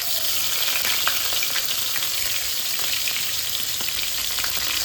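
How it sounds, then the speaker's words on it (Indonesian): Lemongrass and a blended spice paste for pork rica sauté in a hot pan, giving a loud, steady, close sizzle with faint stirring scrapes throughout. "Ini pertama, serainya kita tumis, kemudian kita masukkan bumbu yang kita blender tadi."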